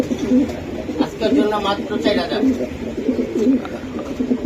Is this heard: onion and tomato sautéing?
no